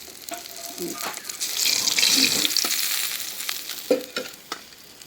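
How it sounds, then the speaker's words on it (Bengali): Small hilsa fish fry in oil with a continuous close sizzle, rising and falling in intensity and broken by a few clattering utensil knocks and stirring sounds. "মাছগুলি ভাজা হয়ে গেছে, উঠাইনি।"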